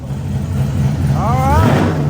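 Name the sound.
supercharged Corvette engine revving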